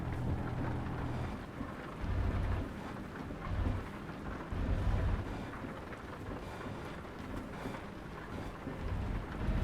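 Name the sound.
rain in video game Euro Truck Simulator 2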